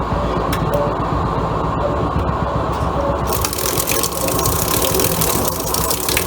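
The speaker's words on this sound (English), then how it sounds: "Getting ready for the rinse, slowing down the tub." A Kenmore laundry center washing machine slows its tub before the rinse, giving a loud, continuous churning and rushing drone with a rattling, ratchet-like texture that brightens and thickens partway through, heard close and alone.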